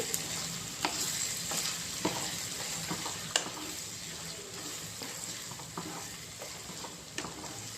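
Ivy gourd and ginger fry steadily in a pan, a dense broadband sizzle with a spatula scraping and stirring at irregular intervals, close and continuous with no talking.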